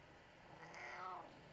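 A pet cat meows once indoors, a soft, fairly faint drawn-out call rising and falling over roughly half a second against a quiet room background.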